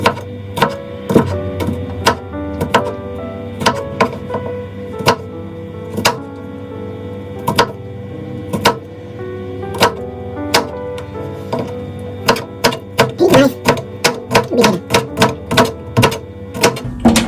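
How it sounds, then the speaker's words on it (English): A knife chops peeled garlic into small pieces on a board. Sharp, rapid taps come in uneven bursts and quicken near the end, with a low hum beneath. "Why don't we start with garlic. Okay, peel the skin and cut into little pieces."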